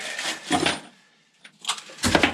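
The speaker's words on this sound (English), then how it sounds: "that kind of crackling noise, and it's just lots of little sea critters against the outside of the hull" Scattered soft crackling and ticking from small sea creatures against a boat hull, in irregular bursts with brief quiet gaps, close and fairly faint.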